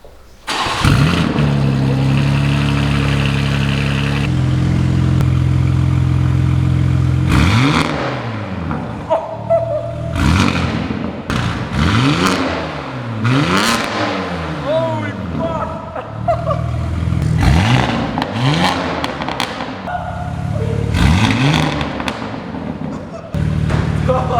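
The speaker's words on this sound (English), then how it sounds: "A full valve exhaust with catless downpipe. It's insanely loud." A BMW G80 M3 with a full valve exhaust and catless downpipe starts and revs hard in repeated loud blips, each rising and falling sharply with pops between, very close and aggressive, with people talking during pauses.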